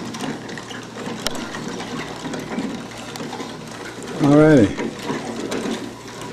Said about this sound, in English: the whole thing's driven with wooden chain and wooden sprocket